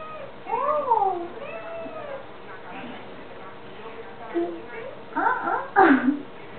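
A cat meows and yowls in drawn-out rising and falling calls, with a louder, more insistent wail near the end, while people talk over it throughout.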